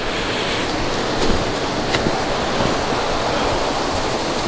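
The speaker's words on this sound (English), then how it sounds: "It's another waterfall there" Water from a waterfall at an abandoned manor hotel pours down in a steady, dense roar, close by and loud, with no speech over it.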